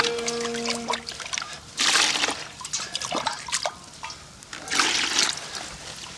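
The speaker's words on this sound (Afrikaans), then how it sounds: "Vat 3 dele water." Water being poured into a measuring jug while mixing fishing bait, a wet pouring and splashing sound that comes in two stronger bursts with trickles between them, nearby, with no talking.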